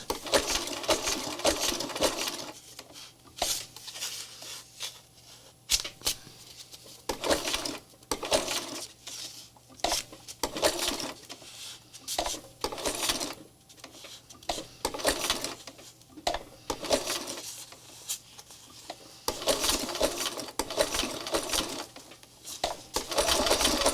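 Sewing machine stitching fabric for a handmade spirit doll, close and clear, running in short bursts of fast needle chatter separated by pauses, with no talking.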